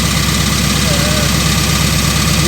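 A Bombardier engine idles steadily, its loud, continuous mechanical drone and vibration holding constant throughout with no breaks.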